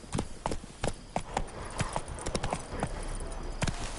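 Roach the horse trots in The Witcher 3, each hoof clip-clopping in a quick, uneven rhythm that comes close and clear, then merges into a steadier run.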